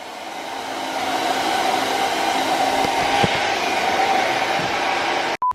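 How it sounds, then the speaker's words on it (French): A hair dryer blowing on a frozen Rolex watch, a loud steady whooshing drone with a faint whine, running continuously before cutting out abruptly right at the end. "20 minutes, il a avec son sèche-cheveux comme ça."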